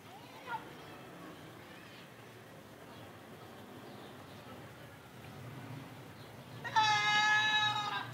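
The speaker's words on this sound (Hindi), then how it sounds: "वो बकरा जो है ना वो बेचारा बहुत ज़्यादा बीमार है अभी, बहुत बुरे तरीके से तड़प रहा था ये।" A sick goat bleats in distress, a strained, wavering cry near the end following a stretch of low background noise, with a voice speaking beforehand.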